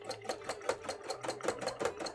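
A sewing machine stitches a cosplay costume, running in a fast, steady mechanical rhythm of rapid needle strokes close by.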